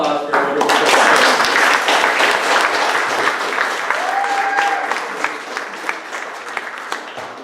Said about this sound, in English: Can I have another round of applause for a wonderful presentation?